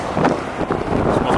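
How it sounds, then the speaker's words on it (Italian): Wind buffets the microphone outside Otemachi Park near the Imperial Palace in Tokyo in steady rumbling gusts, a dense low roar with no voices over it. "C'è un po' di vento oggi"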